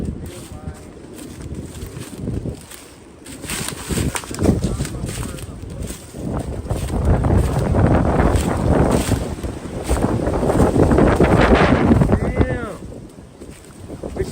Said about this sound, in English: Help control this wind for the audio.